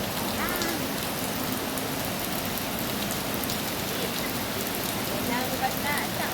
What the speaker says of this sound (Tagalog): Ligo na naman tayo sa ulan.